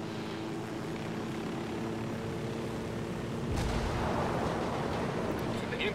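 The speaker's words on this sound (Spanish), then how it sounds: "¡Que voy en un helicóptero!" Helicopter flying in the Ghost Recon video game, a constant loud rotor and engine drone with a sharp burst midway, under a player's excited talk.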